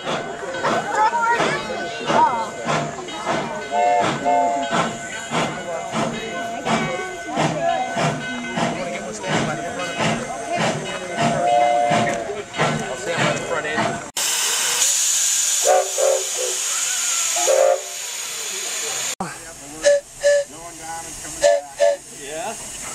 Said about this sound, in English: Is that what the train sounds like?